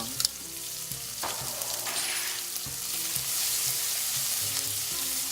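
Ginger and red pepper fry in a hot pan as they are stirred, giving a continuous close sizzle with occasional scraping and clinking strokes, with no talk.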